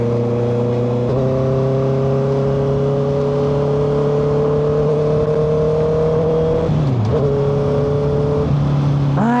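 A 2025 Honda CBR650R inline-four motorcycle cruises steadily, its engine humming in even, sustained tones, with a brief dip and shift partway through before settling back, close and alone without talk.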